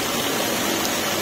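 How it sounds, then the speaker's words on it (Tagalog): Water pours down an artificial waterfall at Ayala Triangle, a steady, close, unbroken rushing wash with no voices over it. "waterfalls"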